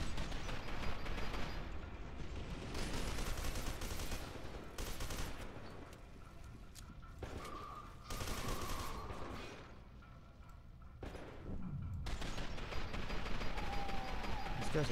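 Rapid bursts of gunfire from the video game F.E.A.R. 2: Project Origin, loud and sustained in dense volleys with brief lulls, set against a busy combat soundscape.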